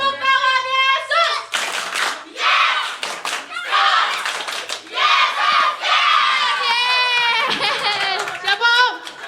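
Children and parents at a Sunday school Christmas service in a church clap and shout energetically, a loud, dense crowd with cheering voices and continuous rhythmic hand claps throughout.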